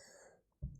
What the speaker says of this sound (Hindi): सॉरी गाइस, खांसी आ रही है मुझे बहुत ज्यादा